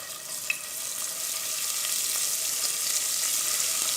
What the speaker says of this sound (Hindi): अब इसमें हम लहसुन डालेंगे और इसको फ्राई करेंगे।